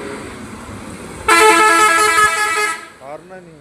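A vehicle horn blasts loudly for about a second and a half on a badly potholed road between Nagar and Manmad, with passing road traffic and a large bus nearby, followed by a brief voice.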